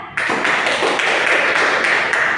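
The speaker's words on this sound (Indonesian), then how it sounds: "bisa tepuk tangan buat Alia" Students in a classroom clap for a classmate, a loud continuous round of applause filling the whole moment with no talk over it.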